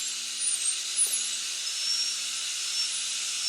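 A dental drill burr cuts a tooth cavity in intermittent strokes, a thin high-pitched whine with faint hiss that dips and surges briefly, close and alone.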